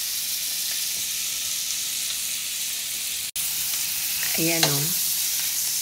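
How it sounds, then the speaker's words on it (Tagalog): Garlic sizzling in melted butter and cooking oil in a pan: a steady, close frying hiss that runs throughout, with a brief voice rising near the end. "Luto lang natin muna yung ating bawang."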